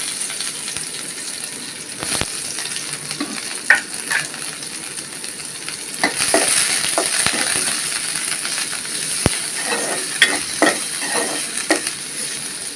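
Chopped onion frying in oil, a steady close hiss of sizzling overlaid with sharp metallic taps and scrapes of a spatula stirring against the pan at irregular intervals, with no voices.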